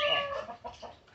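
Farm turkeys and other poultry being fed cooked scraps give a short burst of clucking, close and fairly clear, tapering off within about a second with no speech.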